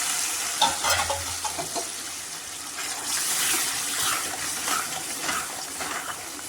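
Mashed vegetables being stirred into pav bhaji masala frying in a pan, with steady close sizzling and repeated scraping, clattering strokes of a spoon over the whole stretch.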